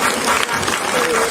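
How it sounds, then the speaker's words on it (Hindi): A crowd at a Hindu religious discourse event claps loudly in sustained applause from start to finish. "एक बार जोर से ताली बजा दीजिए उनके लिए।"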